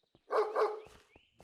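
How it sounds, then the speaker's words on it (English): Dog in Minecraft barking twice in quick succession, loud and close, followed by a few soft clicks and a brief whistling tone. "just bark 2 times and we'll just take it with us"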